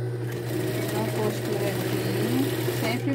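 A sewing machine runs a continuous seam on a handmade bag, giving a steady, close mechanical hum with a droning motor tone throughout the short stretch.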